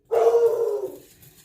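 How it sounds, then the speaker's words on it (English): A dog barks once indoors in a kitchen, a single sharp, fairly loud bark that trails off quickly. "This dog barks at everything."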